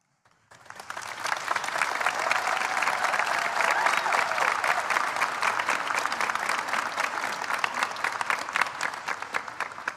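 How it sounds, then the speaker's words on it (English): An audience at a university presidential investiture breaks into applause for a poem reader, rising quickly from silence into sustained, full clapping that holds steady for several seconds. "How about another round of applause for Olivia?"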